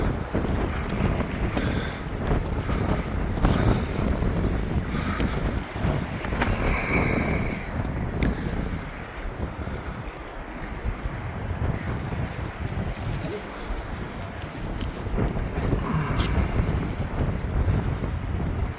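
Strong wind at Middleton Pier rushes and buffets across the microphone in a steady, loud roar with gusty swells, while fishing for cod from the pier. No one speaks.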